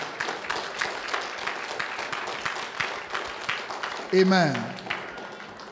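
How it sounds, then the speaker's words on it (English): A church congregation at a convention service claps steadily in a dense, fast patter, with a voice speaking over the applause. "If it's for me, that clap is too much."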